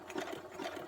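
A sewing machine running a zigzag stitch gives a close, steady mechanical whirr, with a rapid repeating stitching rhythm throughout and no voices.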